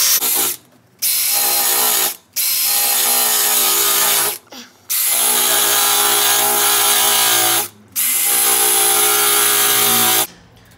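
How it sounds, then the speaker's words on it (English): Small grinder cleaning bare metal on a Honda car chassis for a ground connection, loud whining bursts of several seconds each, separated by short pauses. "This little grinder thing."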